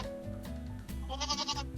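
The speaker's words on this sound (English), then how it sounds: "Goats." Goats on a farm give a short, nasal bleat that rises over a steady background, brief and fairly close.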